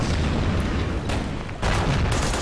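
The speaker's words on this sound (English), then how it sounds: "And in the south, the artillery keeps firing." Artillery fire in the Order of Battle: Burma Road strategy game, deep booming blasts rolling over a dense low rumble, a couple of heavier bursts standing out, loud and continuous.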